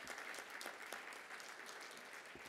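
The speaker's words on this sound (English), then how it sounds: "Let's give Niger a round of applause." A room full of people applauds steadily, a dense patter of clapping that continues evenly throughout, with no one speaking.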